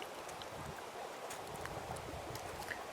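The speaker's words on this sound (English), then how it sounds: "you hear the sound of water running right here at a confluence of a couple creeks" Water running where a couple of creeks meet in a spring woodland: a soft, continuous wash and burble, distant and fairly faint, with no talking.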